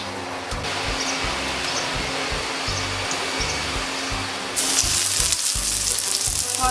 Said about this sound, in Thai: ใช้น้ำมันลำข้าวนี่แหละทอด นะคะ ทอดในส่วนเต้าหู้ก่อนเลยค่ะ